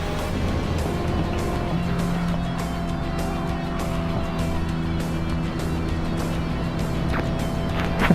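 A Ford F-150 pickup truck races with its engine droning steadily and loud throughout, a continuous harmonic hum with no breaks and faint voice-like traces underneath.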